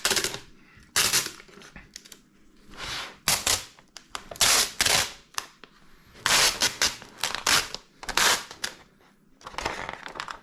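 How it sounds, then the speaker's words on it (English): Backing paper is pulled in quick bursts from velomobile decal stickers, a series of sharp, loud crackling rips separated by short pauses and quieter handling noise. "then I will be able to peel off this backing paper"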